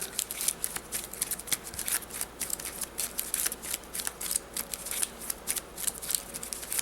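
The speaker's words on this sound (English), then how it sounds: "We're going to give these a good shuffle and get this bad boy ready to go." A deck of cards for a solo Ardennes board wargame gets a steady run of crisp riffle shuffles, rapid flutters repeating close up through the clip with no talk.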